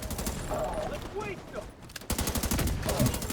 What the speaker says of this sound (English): I'm gonna open up with a grenade on those two.